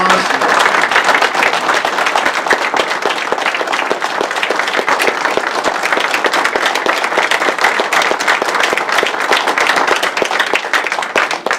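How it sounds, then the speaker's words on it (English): Sustained, dense applause from an audience at a Teamsters labor union gubernatorial forum, steady loud clapping filling the room for over ten seconds with a faint crowd murmur beneath. "give them a round of applause."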